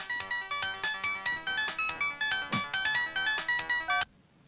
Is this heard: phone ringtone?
yes